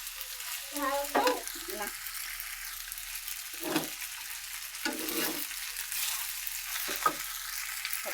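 Pasta and egg with green chillies fry in a pan, a close sizzle broken by several bursts of scraping and stirring, with a brief word spoken once.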